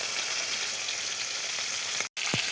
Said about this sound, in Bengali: কড়াই গরম হয়ে গেছে, মাছটা দিয়ে দেবো।